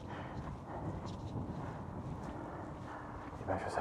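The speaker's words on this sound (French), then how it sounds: "Ouh, la bourrasque." A gust of wind buffets the microphone on a night walk beside a bus stop: a low, steady rumbling roar that swells slightly near the end.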